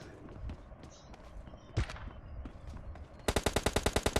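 Gunfire in the mobile battle royale game PUBG Mobile: scattered game sounds and a single sharp shot, then a rapid, evenly spaced burst of about ten loud shots at close range.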